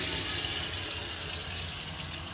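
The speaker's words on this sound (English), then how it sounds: "so if I now just open a tap up" Water gushes steadily from an opened tap inside an Elddis Majestic 115 caravan, a loud, continuous hiss with no voices.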